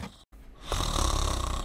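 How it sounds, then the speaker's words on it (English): Carlin, a cartoon character in Kikoriki, snoring loudly in one long drawn breath after a short pause, close and alone. "I can't take this snoring anymore"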